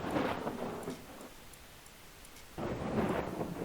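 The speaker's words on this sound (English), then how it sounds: "Does the lightning ever stop in this game?" Deep rolling thunder from lightning strikes in a country battle royale video game, two heavy rumbling bursts separated by a quieter gap, with a rain-like hiss underneath and no talking.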